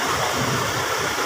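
A truck engine idles steadily after arriving at a stop in Pangasinan, a continuous broad rumble with a dense hiss and no talk over it.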